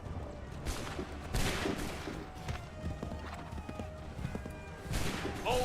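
Scattered musket shots crack out during an American Revolution reenactment, a few loud reports at irregular moments over a busy outdoor crowd murmur, with shouted commands mixed in.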